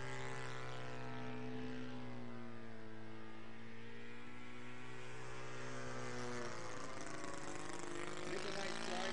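A model Cub airplane makes a flyby, its propeller and small engine giving a continuous, fairly distant buzzing drone whose pitch bends and shifts as the plane passes overhead.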